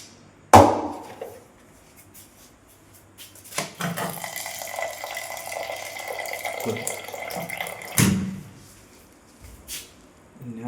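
Water is poured and splashes close by, a hissing stream running for several seconds between clattering knocks and a sharp thud.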